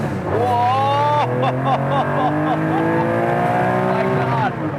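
A built Porsche 911 engine revs hard and bounces repeatedly off its rev limiter, the pitch climbing then stuttering in rapid cuts, loud and close inside the cabin with excited talk over it.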